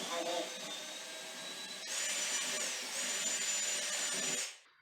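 Power drill with a 3/8 inch bit boring into a bathroom vanity, a steady high whine that rises in pitch partway through, close and fairly loud, then spins down and stops.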